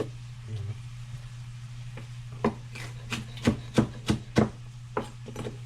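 A knife chops through tough pechay (bok choy) stems on a board, with a rapid run of sharp, close chopping strikes in the middle and a few scattered cuts around it, over a steady low hum.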